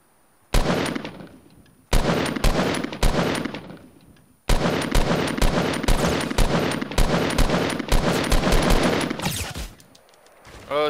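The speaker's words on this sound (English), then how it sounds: "Oh shit, he's got a sniper." Sniper rifle fire in the Fortnite video game: loud, close, sharp shots in repeated rapid bursts, each followed by a ringing tail, with brief pauses between volleys.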